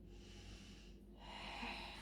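Quiet, close breaths drawn in and pushed out during a mat stretching exercise, with a soft snort-like exhale and no talking.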